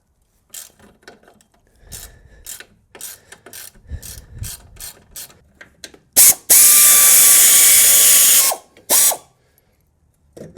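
A hand ratchet wrench with a 10mm deep well socket works engine bolts on a BMW E36 during engine removal, giving bursts of close clicking pawl ratchets followed by a loud, sustained grinding rasp.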